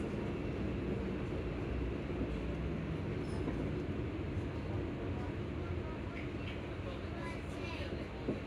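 Onboard rumble of an Alstom ScotRail Class 334 electric train running near Edinburgh Park, a steady low drone with faint higher whines, while an announcement voice plays over it.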